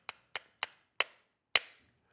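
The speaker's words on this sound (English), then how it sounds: "I'll grab a hammer with the nylon tip and just tap it in." Nylon-tipped hammer tapping a pin into a pistol backstrap: five crisp, close taps, the first three quick and evenly spaced, then two with longer pauses, the last one hardest, with no talk.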